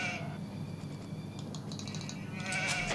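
Sheep in Age of Empires 2 let out a few short bleats over a low game ambience of field noise, moderately loud and near, with no talking.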